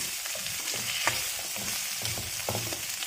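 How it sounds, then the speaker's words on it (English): Vegetables sauté in a pan: a close, steady sizzle with brief scrapes and stirring knocks at intervals, no voices. "I would like to saute these vegetables first."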